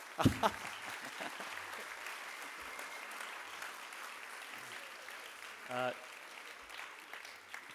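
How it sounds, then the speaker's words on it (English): An audience applauds Professor Ei-ichi Negishi during a dialogue event, a steady wash of clapping lasting several seconds at moderate distance, with a brief voice or two breaking through near the end. "Let's give him a round of applause."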